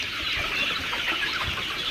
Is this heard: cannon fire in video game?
no